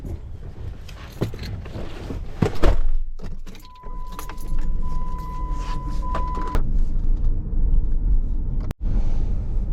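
Someone climbs into a car after bass fishing in Fort Worth, Texas: rustling and keys at first, a door-chime tone, then a loud door slam followed by steady idling engine rumble.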